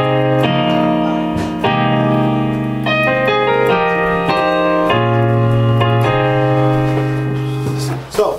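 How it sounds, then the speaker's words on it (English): Piano plays the second part of a song's intro, a steady sequence of sustained chords struck close and clear, ending with a brief bump of handling noise. "now let's learn part two. Part two is gonna sound like this."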